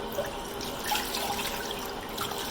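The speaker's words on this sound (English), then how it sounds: "we want the water to get all the way through the material to the hair" Water running through a Remy human hair hairpiece as it is washed at a sink, a steady close hiss of flowing water with faint dripping, continuous and alone without speech.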